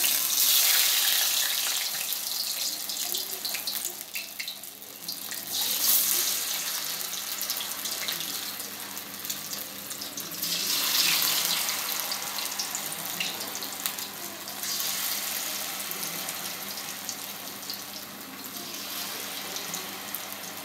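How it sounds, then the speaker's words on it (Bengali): Food hisses steadily after going into hot oil for an evening snack, a loud, continuous sizzle close by that swells and eases in waves, with no voices over it. "তেল গরম হওয়ার পরে দিয়ে দিচ্ছি আমি"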